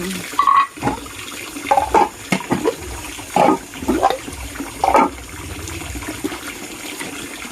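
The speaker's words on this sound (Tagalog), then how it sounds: "maghugas na tayo ng kanilang mga plato" Running tap water splashes over pets' dishes being washed in a sink, with intermittent gushes and clatter at close range.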